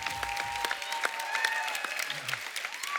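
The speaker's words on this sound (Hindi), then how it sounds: "विशाल और आयुष के लिए जोरदार तालियां।" A studio audience on a comedy talk show claps for two guests, a sustained wash of many hands with sharp individual claps and a faint tone running underneath.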